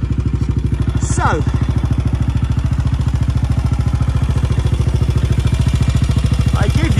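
A 2001 BSA Regal Gold SR Classic Cafe Racer motorcycle idles close by with a loud, steady rapid thumping beat, and someone speaks briefly at the start.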